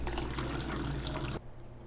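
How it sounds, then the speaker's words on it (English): Tap water gushes steadily into a container being filled for prickly pear cactus fruit juice, a loud continuous rush that cuts off abruptly near the end. "So then we're going to fill up our water."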